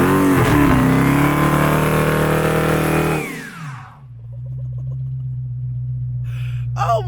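Dodge Charger SRT8 Hemi V8, a converted police cruiser, revs loud and close with a rising roar, then drops sharply to a steady low idle rumble before a short blip at the end.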